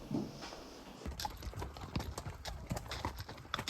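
Horse hooves clip-clop steadily in a meadow nearby, a repeated irregular clopping with faint outdoor ambience and an occasional soft snort.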